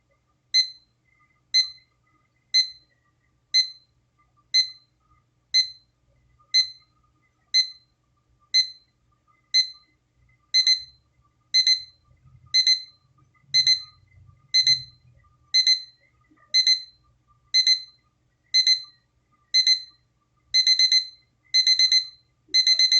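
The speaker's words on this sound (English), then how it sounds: "So now let's just wait for the alarm to come on." A La Crosse wireless charging alarm clock sounds its alarm: crisp, loud electronic beep pairs repeating at a steady pace, growing faster and louder toward the end, with faint low background rumble.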